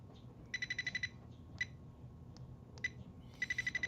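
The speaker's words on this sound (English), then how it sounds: "You just like to hear the little beeping." Quiet electronic beeping from a tester checking Christmas lawn ornament lights, in quick bursts of rapid chirps, separated by single isolated beeps, over low background rumble.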